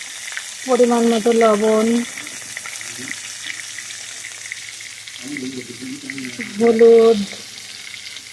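Spices and vegetables sautéing in a pan, including banana and ridge gourd with salt and turmeric, a continuous low sizzle beneath a woman's speech that comes in two short bursts.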